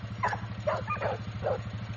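A five-month-old puppy gives several short yips and barks, fairly close, over a steady low hum in a yard.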